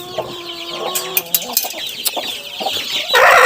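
A broody hen clucks and squawks agitatedly, fighting through a wire mesh, with bursts of scuffling and wing flapping, close by, with other fowl sounds mixed in.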